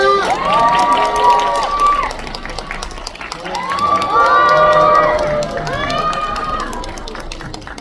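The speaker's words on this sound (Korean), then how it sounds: "큰 박수로 환영해주세요" A cinema audience cheers and applauds loudly in swelling waves for a director and cast at a stage greeting, with high shouts and whoops on top of steady clapping.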